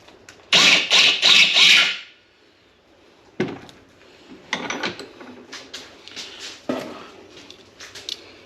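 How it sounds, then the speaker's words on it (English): Hand reamer deburring the edge of freshly cut threads on a steel steak flipper shaft, first a quick run of loud scraping strokes, then sparse, fainter metallic scrapes and clicks close by, with no voices. "I'm just using a reamer to clean up the edge of the threads"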